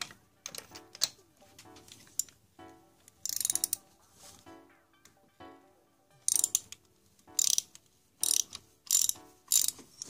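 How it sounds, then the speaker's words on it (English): A ratchet fitted with a 5/8 spark plug socket works on a Mercedes engine, making quick bursts of crisp clicking strokes close up, spread through the clip between quieter handling noises. "I'm using a 5/8 spark plug socket remover."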